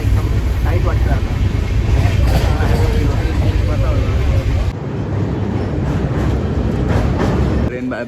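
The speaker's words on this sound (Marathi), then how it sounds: "Train bye bye. आम्ही उतरलो बोरिवलीला." A suburban train at Borivali station in Mumbai, a loud steady rumble of rolling carriages close by that drops away sharply partway through, leaving quieter platform ambience with faint voices.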